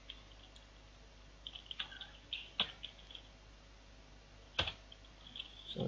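Computer keyboard typing during an HTML coding lesson, sparse soft key taps in short bursts with a sharper enter-key press, quiet and close against a faint background hiss.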